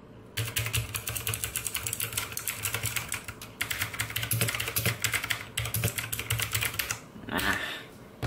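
Continuous rapid typing on a Digital Alliance K1 Meca TKL full mechanical keyboard with non-Cherry blue switches, dense clicky keystrokes close up with a short pause midway, no talking.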